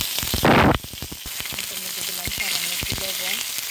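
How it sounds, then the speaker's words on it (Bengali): Chilies are dropped into hot oil in a wok, setting off a loud burst of sizzling, which then settles into steady frying with crackles and some clinking under background sound. "তেলটা গরম হয়ে গেছে, আমি এখন দিয়ে দিচ্ছি এর মধ্যে মরিচগুলো"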